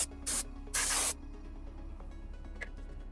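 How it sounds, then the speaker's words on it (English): An air compressor nozzle blowing dust off a Boba Fett jet pack workpiece, two short loud hissing blasts close up, the second longer, followed by quiet room tone. "let me get my compressor and blow out any dust that's there"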